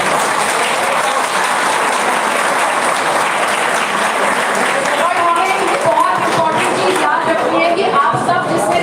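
Loud sustained audience applause at a talk event, a thick continuous roar of clapping from a large crowd that stays strong to the end, with some crowd noise mixed in.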